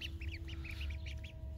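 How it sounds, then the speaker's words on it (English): Ducks at a small backyard pond let out a rapid run of soft, nasal quacks, quiet and somewhat distant, over a low background rumble. "We got the ducks out here."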